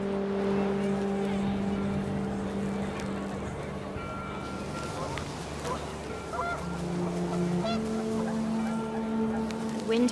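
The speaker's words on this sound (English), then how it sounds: "The wind picked up, and panicked geese appeared and quickly went" Panicked geese honk in the video game What Remains of Edith Finch as wind picks up, a chorus of repeated, overlapping honks close by over a steady windy rumble.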